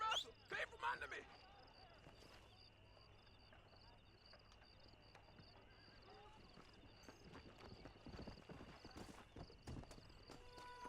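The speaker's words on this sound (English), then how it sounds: "Come on, horse." A horse's hooves clip-clop in Red Dead Redemption, a faint rhythmic trot under game ambience. Someone talks over it now and then.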